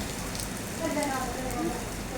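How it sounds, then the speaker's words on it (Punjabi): Steady rain patters down on a surface, a dense continuous hiss with a faint voice in the background. "ਪਾਪਾ ਜੀ ਮੀਂਹ ਆਈ ਜਾਂਦਾ"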